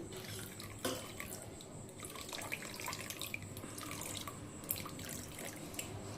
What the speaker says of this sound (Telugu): ఇలా జల్లెడలో వేసి నీళ్ళు వేసి కడుక్కోండి